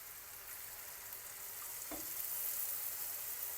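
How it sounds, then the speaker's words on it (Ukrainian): Hot water poured into a pan of red pepper frying in oil, a sharp sizzling burst over a steady background hiss, close and fairly quiet. "Не можна перець довго тушкувати, заливаю водою."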